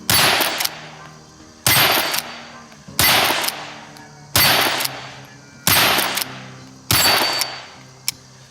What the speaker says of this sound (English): So let's fire some downrange.